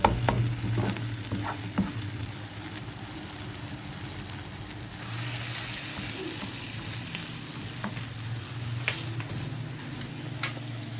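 Goat brain fries with masala in desi style, a steady close sizzle and crackle with occasional stirring scrapes and ticks throughout.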